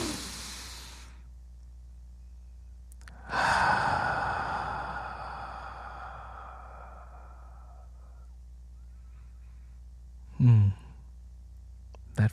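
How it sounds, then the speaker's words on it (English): A slow, deep breath drawn in and then let out in a long, audible sigh during a guided relaxation exercise, followed by quiet and a brief breathy sound near the end. "let's take a deep breath."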